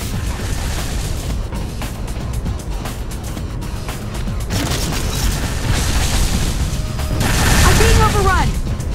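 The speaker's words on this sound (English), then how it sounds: "I question the logic of firing rockets in an abandoned munitions plant" Rockets firing and exploding in a firefight inside an abandoned munitions plant in Unreal Tournament 3, with dense rapid blasts, rumbling booms and a loud swell near the end.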